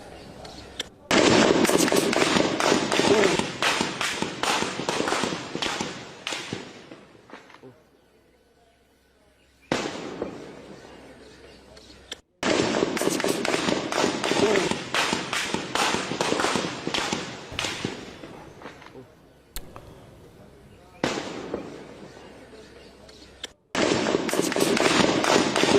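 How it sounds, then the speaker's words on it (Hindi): Pakistani Rangers open fire at a street protest in Pakistan-occupied Kashmir. Dense, loud rapid gunfire comes in long sustained bursts separated by brief pauses. "पाकिस्तानी रेंजर्स कैसे फायरिंग कर रहे हैं"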